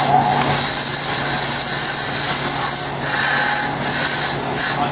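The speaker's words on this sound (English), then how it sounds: "I like to use this grinder behind me" A grinder runs loudly and steadily in a metal welding shop, giving a harsh high whine with brief dips as it touches the workpiece. It sounds close, with no talking.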